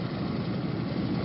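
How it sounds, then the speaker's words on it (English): Helicopters from the MASH television opening produce a dense, continuous rotor and engine drone, loud and unbroken across the whole short stretch. "Choppers."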